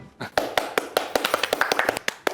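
A small group of people claps in a few scattered, irregular claps, close by, during a family comedy scene. There is little sustained applause.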